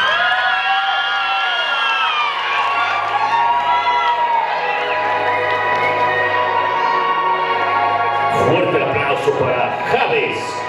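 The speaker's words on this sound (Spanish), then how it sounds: "Fuerte el aplauso" Crowd at a quinceañera cheering and whooping for an arriving guest, with children's shouts and light applause under sustained music, growing busier near the end.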